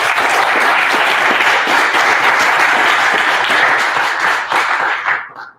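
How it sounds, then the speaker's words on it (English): Audience applause fills a University of New Mexico Department of Family and Community Medicine gathering marking its 50th anniversary: dense, steady, loud clapping from many hands that tapers off and fades at the end. "I think that deserves some applause"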